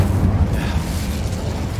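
Incendio fire spell from Hogwarts Legacy, a short dense whoosh of roaring flame with a heavy low rumble, steady and loud throughout, no voices.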